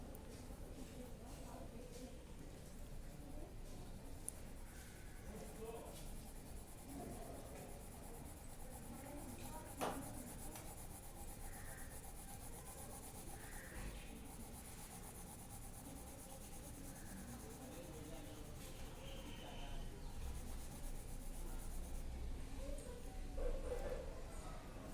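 A 2B drawing pencil sketches in faint, soft scratchy strokes, low in level, while a person talks over the rubbing.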